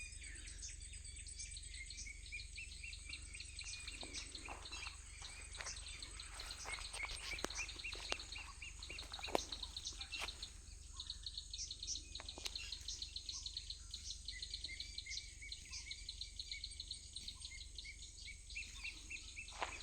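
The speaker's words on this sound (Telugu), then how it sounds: "చూడండి పక్షుల సౌండ్లు చూడండి ఎంత బాగున్నాయి, కిచకిచకిచకిచ అంటూ." Crickets trill steadily among trees outdoors while birds chirp and tweet in scattered bursts over a continuous insect drone, with a low background hum throughout.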